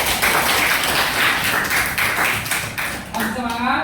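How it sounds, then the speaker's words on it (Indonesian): A sixth-grade classroom of children claps together in a dense, steady patter that fills the room, then thins as a voice starts speaking near the end. "Tepuk tangan untuk kita semua."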